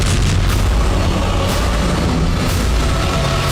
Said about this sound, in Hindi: चंद पलों के बाद निशाना सेट होता है और फिर जोरदार धमाका हुआ।